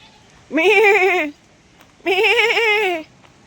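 Two long, wavering bleats from a goat kept in a chicken house, close and loud, with a short pause between them.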